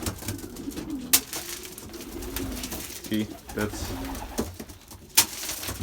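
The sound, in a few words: Belgian racing pigeons cooing after arriving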